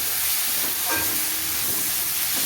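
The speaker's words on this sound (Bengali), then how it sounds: "মশলা দিয়ে দিলাম, ভালো করে ভাজা করে নিই" Vegetables fry with spices in a pan, giving a continuous close sizzling hiss that holds steady with slight swells and no talking.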